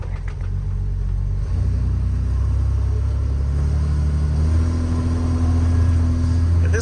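A 1959 Chrysler Wayfarer ute with a Hemi six-cylinder engine and manual steering drives along, its steady, loud low engine rumble rising in pitch as it pulls and accelerates.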